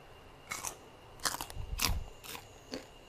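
Crispy fried pork cracklings coated in curry paste being tossed, giving several sharp, brittle crunches in short bursts, faint and close, with brief pauses between them.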